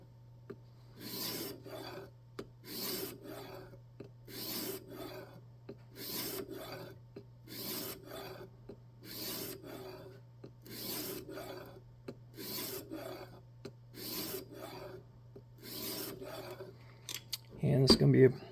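A knife over 20 years old is drawn across a 1500-grit sharpening stone clamped in a jig, making a dozen rhythmic, evenly spaced scraping strokes close up over a low steady hum, with a brief clatter at the end.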